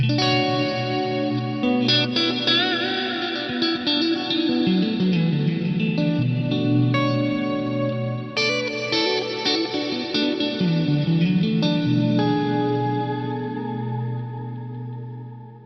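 Electric guitar runs through a custom-built reverb on an Axe Fx III, sustained chords swelling into a dense, washy, chorus-tinged tail that blurs each strum together, loud and continuous with no voices.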